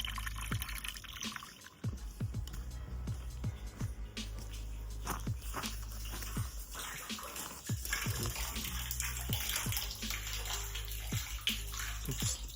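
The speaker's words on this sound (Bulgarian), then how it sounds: "в момента правя финален тест. Вижте се на къде тече водата." Rainwater pours and gurgles into an underground storage tank during a final test of a rainwater collection system, with a continuous flow broken by frequent irregular drips and splashes close by.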